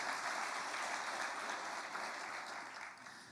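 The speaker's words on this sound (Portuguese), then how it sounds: "Se vai aplaudir, como diz o pastor Toninho, aplauda forte" A church congregation applauds together in a steady, dense wash of clapping that holds throughout and eases off slightly near the end.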